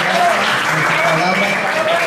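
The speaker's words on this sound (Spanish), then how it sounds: "Bien, un fuerte aplauso." An audience claps together at a book fair event in 2017, producing a steady, fairly loud patter. A voice speaks over the clapping the whole time.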